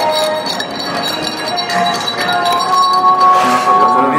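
Ice cubes clink against a glass as Vietnamese coffee is stirred, a bright continuous jingle of repeated taps and rattles, loud and close.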